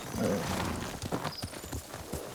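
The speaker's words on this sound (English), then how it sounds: "Horse!" Horse hooves clip-clop at a steady pace in the video game Ghost of Tsushima, moderately loud with ambient forest sound and brief voice-like sounds mixed in.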